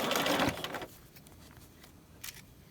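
Sewing machine stitching piping at a standard 2.5 stitch length, a dense mechanical whir up close that runs for under a second, then drops away to quiet room tone with a faint click.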